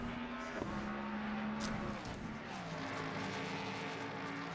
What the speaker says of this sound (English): Car sounds really nice from the inside too.